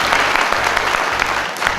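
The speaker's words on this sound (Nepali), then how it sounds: "एकचोटि हामी ताली बजाइदियौँ भने एकदमै राम्रो हुन्छ" Wedding guests at a Nepali Christian ceremony break into steady applause, a dense, continuous patter of many hands clapping that fills the whole moment.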